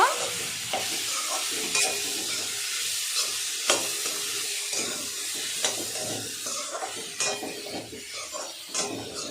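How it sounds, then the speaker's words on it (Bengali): Cut potato pieces sautéing and being stirred in a pan for a tengra fish curry with okra, a steady sizzle broken by repeated scrapes and clatters of the spatula, close and fairly loud with no talk. "এবার দিয়ে দেব কেটে রাখা আলু আলুটা ভালো করে কষে নেব"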